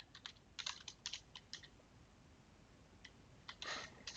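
Keystrokes on a computer keyboard as text is typed into a Photoshop design, a quick cluster of clicks followed by a pause and then a short final burst, close and quiet with no talking.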